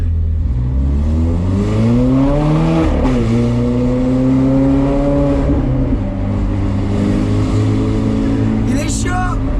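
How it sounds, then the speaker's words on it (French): A car fitted with an aftermarket non-original exhaust revs loudly up close, engine pitch climbing and falling in several swells over a rough, rumbling idle, with a voice briefly heard near the end. "C'est un échappement qui a été mis par l'ancien propriétaire de la voiture"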